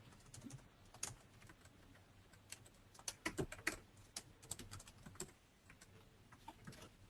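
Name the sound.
typing on a computer keyboard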